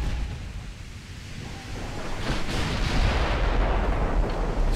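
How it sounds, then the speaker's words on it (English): Battleship guns firing in the naval video game Ultimate Admiral Dreadnoughts, heard as a dense rumbling barrage of distant booms that swells and thickens midway, with no talk over it. "let's get all our guns firing"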